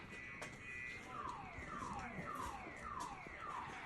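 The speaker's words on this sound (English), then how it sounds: "So the impact is so much that the car alarms are going off." Parked car alarm about 50 yards away in a Ukrainian war zone, set off by a nearby missile impact, cycling through repeated falling electronic whoops against a low rumbling background.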